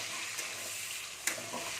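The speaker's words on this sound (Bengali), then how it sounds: "তেল গরম হয়ে গেছে, আমি এই টমেটো কুচিগুলো দিয়ে দিলাম।" Chopped tomatoes frying in hot oil in a pan while making raw banana kofta, a steady close sizzle with a few brief stirring clatters.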